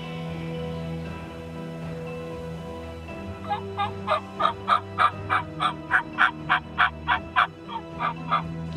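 Male wild turkey gobbling in a wooded hunting area, a loud run of about a dozen rapid, evenly pulsed gobble bursts that starts after a few seconds of quiet outdoor background and carries on to the end.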